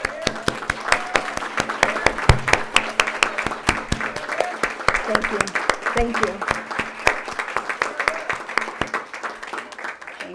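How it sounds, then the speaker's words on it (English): Audience applause fills a meeting room at a county government event, steady dense clapping throughout with a voice saying thanks over it, fading near the end. "give them a round of applause"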